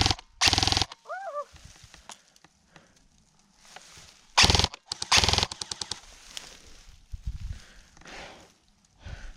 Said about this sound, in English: I'm almost out of ammo, Josh.